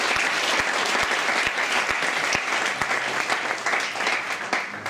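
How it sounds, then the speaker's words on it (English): A meetup audience applauds, a dense, loud, even wash of clapping hands that carries on steadily without pause. "give a big applause for all of them."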